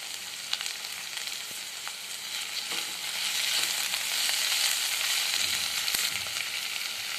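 Sliced bell peppers and tomatoes sizzle in a pan for veg gobi manchurian, a steady close hiss of frying that swells slightly midway and carries on alone.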